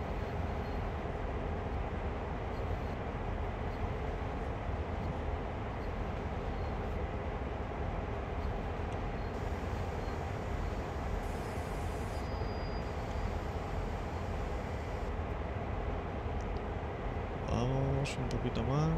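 A heavy train in the video game Train Sim World 2020 strains up a ramp, giving a steady, loud mechanical rumble with a dense low drone that holds throughout, then a brief change of tone near the end.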